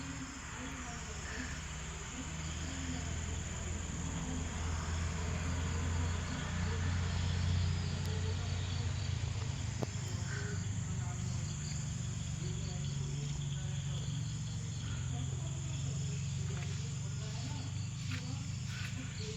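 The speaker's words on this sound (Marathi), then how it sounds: "जंगलातल्या कीटकांचा, बेडकांचा जास्त करून आवाज येतोय." Forest insects and frogs call at dusk near a farm, a dense continuous chirring chorus, faint and steady with no talk.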